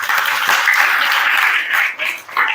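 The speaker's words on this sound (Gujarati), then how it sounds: "તાળી પાડો." An audience at a Bhagavad Gita discourse claps on cue, a dense, steady patter of many hands that thins briefly near the end before picking up again.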